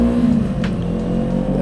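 A QJMotor SRT450RX motorcycle engine runs loud and close, its steady drone dipping slightly in pitch as the revs ease off, with no talking.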